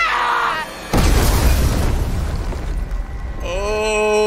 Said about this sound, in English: Oh, there goes the grenade.